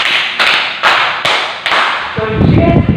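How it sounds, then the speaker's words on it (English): A classroom of students clapping in unison five times for a classmate, loud rhythmic claps spaced evenly, followed by a burst of voices and chatter as the group settles. "give 5 claps to Margon Robledo"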